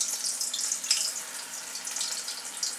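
Cabbage and spring onion fritters fry in hot oil over a medium gas flame. A continuous bright crackling sizzle rises and falls slightly, close and even throughout.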